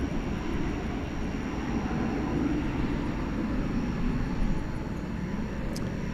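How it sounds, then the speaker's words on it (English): An Airbus A350-900, Fiji flight 891 bound for Nadi, rumbles steadily at night at DFW Airport, a continuous low engine roar held at moderate distance without voices. "flight 891 to Nadi. That's a A350-900."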